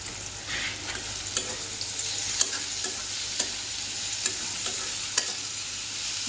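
Onions fry in oil with a little salt, a soft steady sizzle broken by sharp clicks of a spatula stirring against the pan at irregular intervals.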